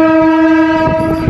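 A passenger train on the Narasapur to Guntur run departs Nidamanuru, its horn sounding one long, loud, steady blast close by over a low rumble of the cars.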